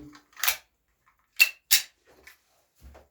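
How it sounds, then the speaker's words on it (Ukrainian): Two sharp, loud bangs from a TT-33 pistol a fraction of a second apart, with a quieter click before them and faint handling noises after. "Два постріли."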